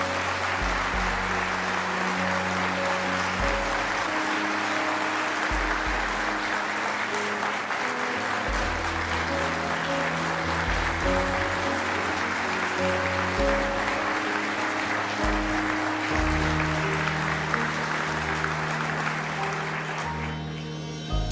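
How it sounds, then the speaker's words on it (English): An audience applauds steadily and loudly at an event honoring an Iraq war Medal of Honor recipient, a sustained dense wash of clapping that continues unbroken, with some music-like tones sounding beneath it. "Yeah, you can clap for that."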